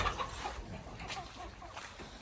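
Chickens clucking close by in a noisy, bustling outdoor setting, with a steady murmur of activity underneath.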